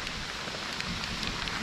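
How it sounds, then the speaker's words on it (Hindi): Rain falling during a trek to a mountain temple: a dense, even hiss of steady rainfall with fine patter throughout, with no voices. "बारिश हो रही है फिर भी चल रहे हैं"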